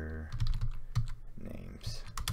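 Keys clack on a computer keyboard during a Python programming session, a short run of crisp clicks and taps over a low hum, with a faint voice in the background.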